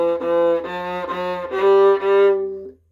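Viola playing a short exercise passage at two bows per note, a series of sustained bowed notes with distinct bow changes, rising to a longer held note before stopping, close and clear with no talking.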